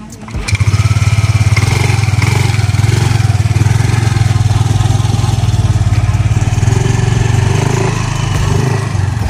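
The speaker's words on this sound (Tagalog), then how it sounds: "So test drive natin mga boss." A second-hand motorcycle engine starts and runs at a steady, loud, chugging idle throughout the test drive, close to the recorder, with a voice partly under the engine noise.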